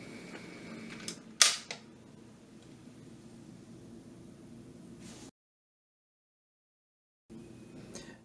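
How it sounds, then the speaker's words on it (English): A 1950s vintage record changer turntable shuts itself off after the reject control is hit, with a few mechanical clicks and a sharp clunk early, a soft running hum, then the sound cuts out. "you can hit the reject control one more time, and again it'll turn itself off completely"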